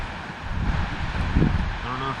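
Gusty wind rushes steadily across a Grand Canyon overlook in cold autumn weather, a broad low roar with a brief voice rising under it near the end.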